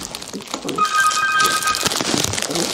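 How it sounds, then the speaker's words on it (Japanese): Short electronic telephone ringtone chirps for about a second in an indoor room, fairly clear against faint background noise, with no speech over it. "あ、ちょっとお電話が。"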